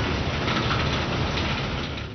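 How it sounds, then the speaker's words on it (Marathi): Heavy monsoon rain pours over Naigaon taluka in Nanded, Marathwada, amid flooding, a steady dense hiss that holds loud and even throughout, with no voices. "नायगाव तालुक्यात रात्रीपासूनच जे आहे ते मुसळधार पाऊस या ठिकाणी बरसत आहे"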